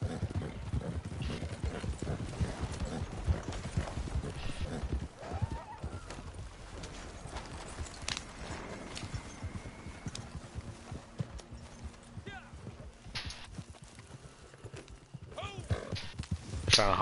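Repeated horse hoofbeats in Red Dead Redemption 2 clip-clop at a steady walking rhythm, close by, with voices talking over them throughout.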